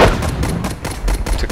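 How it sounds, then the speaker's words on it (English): Artillery fire in the World War I game Warfare 1917: a rapid series of sharp, booming shots and blasts in repeated bursts, loud and close, with no talk. "we forced their artillery to shoot here."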